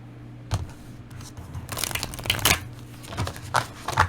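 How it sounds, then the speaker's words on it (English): Tarot cards being shuffled by hand, a series of crisp riffling and papery snaps in irregular bursts, close and clear with quiet gaps between. "Shuffle one more time and then we'll pull."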